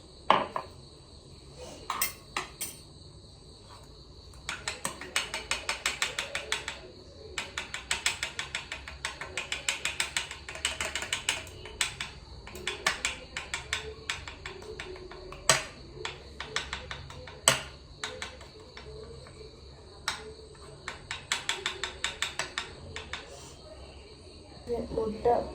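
Eggs beaten with salt in a bowl, a whisk or fork clattering rapidly against the sides in quick rhythmic bursts, close and fairly loud, with short pauses between rounds of beating.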